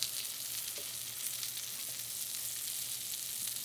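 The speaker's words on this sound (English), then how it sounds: "I'm gonna give that a quick stir." Capers sizzle steadily in a hot pan, a constant bright crackle with faint scraping of a utensil stirring underneath.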